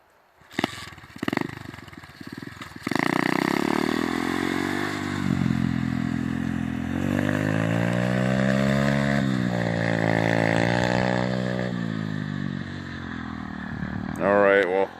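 A dirt bike ridden by a kid on his first ride, its engine revving up and down loudly and close by for most of the stretch, with the pitch rising and falling. A voice speaks briefly near the start.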